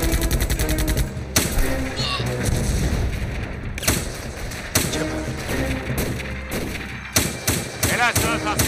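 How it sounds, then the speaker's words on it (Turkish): Gunfire and rocket fire in a TV drama battle scene: dense automatic bursts and heavy booming blasts, loud and nearly constant, with shouted voices mixed in among the shots. "Görerek ateş edin Hasan."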